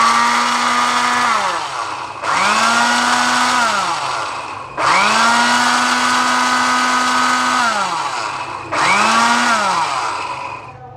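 A kitchen blender grinds achari chicken masala spices in four loud bursts. Each burst whines up to speed, runs steadily for a few seconds, then winds down before the next one starts.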